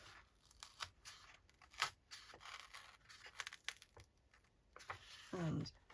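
Paper is torn by hand along a line for a book cover, giving several short ripping and crinkling bursts with pauses between them, close and fairly quiet.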